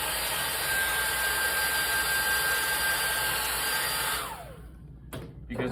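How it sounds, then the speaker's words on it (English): A hair dryer blowing on wet paint during an art demonstration, a loud, steady airy drone with a thin whine that runs for several seconds, then winds down as it switches off. "This hairdryer is all about stopping the progress of the paint"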